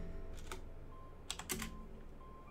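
Quiet keystrokes on a computer keyboard as a Linux terminal command is typed, a few soft clicks in two short bursts with a pause between them, close and faint with no voices.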